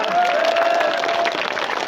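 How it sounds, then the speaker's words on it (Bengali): A crowd at an outdoor victory rally marking the August 5 anniversary claps and cheers, a dense continuous wash of applause with voices mixed in throughout. "তুহিন ভাই জন্য একটা হাতে করতালি হয়ে যাব"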